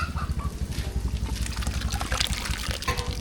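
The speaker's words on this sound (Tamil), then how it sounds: "லாஸ்ட்டாக புளி தண்ணி சேர்த்துக்கலாம்" Tamarind water is poured into a pot of sambar, giving a close, bubbling gurgle and trickle with uneven splashes throughout, heard on its own without talk.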